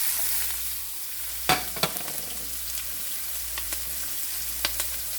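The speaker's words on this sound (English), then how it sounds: "So we will saute that one until this will become slightly golden brown or translucent, until this will become fragrant" Ginger strips, garlic and white onions sauté in a pan with a soft, constant sizzle, broken by a few sharp clicks and scrapes of stirring, close and with no talk.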